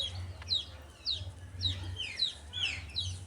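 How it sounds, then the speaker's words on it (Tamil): Roosters crow and cluck in short repeated calls over a low background rumble while fighting. "இந்த சேவல் பயங்கரமாக சண்டை போடும்."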